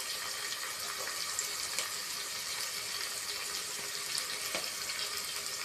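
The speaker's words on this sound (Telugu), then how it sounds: "బియ్యానికి కావాల్సిన రైస్ కడుగుతున్నాను." Running tap water pouring steadily as rice is washed in a kitchen sink for biryani, a continuous close splashing hiss with no talk.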